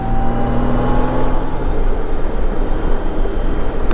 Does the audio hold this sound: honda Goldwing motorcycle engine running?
yes